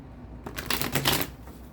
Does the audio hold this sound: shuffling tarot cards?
yes